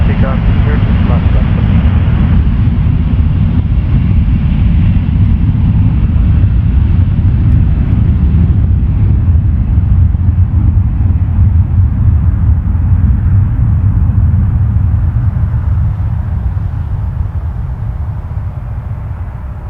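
A large airliner taking off at night from runway 06 Left at Toronto Pearson, a loud, steady jet roar and rumble that holds for the whole stretch, then eases slightly toward the end.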